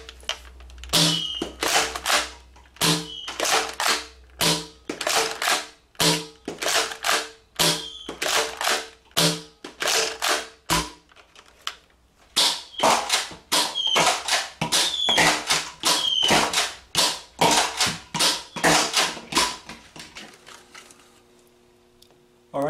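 A Nerf Mega Cycloneshock blaster fires darts in an apartment, each shot a sharp crack followed by a smack against a glass door. The shots come in irregular bursts of quick repeated pops with short pauses between them.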